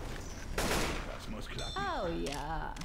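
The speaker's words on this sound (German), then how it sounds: "das war nur ein Warnschuss" A single gunshot fired as a warning shot in the zombie shooter Left 4 Dead 2, a loud broadband blast followed by game sounds, with a voice speaking afterward.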